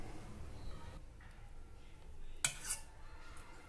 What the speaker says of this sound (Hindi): इसमें पहले मैं दही मिला लेती हूँ